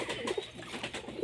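A male pigeon coos in short soft throaty bursts, close by and moderately quiet, with no one speaking.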